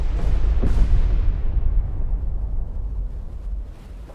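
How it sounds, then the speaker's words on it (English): Depth charges exploding underwater in a submarine warfare video game, a heavy deep boom with a second blast soon after, then a long rumbling decay that fades over several seconds. "Antler made a depth charge attack on contact."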